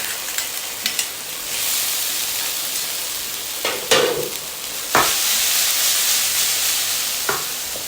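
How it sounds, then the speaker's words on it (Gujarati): Soaked poha going into a frying pan over a low flame and being stirred, heard as a loud, close sizzle with several sharp scraping and tossing strokes, and no talking. "હવે એની અંદર આપણે જે પૌવા તૈયાર કરીને રાખ્યા હતા એ ઉમેરી દેવાના છે"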